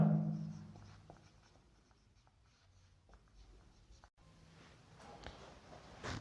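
Pen strokes writing out a physics momentum equation, a close scratching that comes in short bursts with brief pauses between them.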